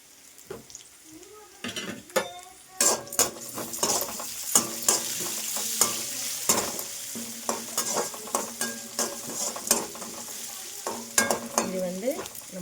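Puffed rice upma stirred and sautéed in a pan, with a spoon scraping and clinking in irregular bursts over a soft steady sizzle, close and moderately loud.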